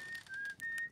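A character in the Outer Wilds video game whistles a steady, clear tune in short sustained notes, close and alone without talk.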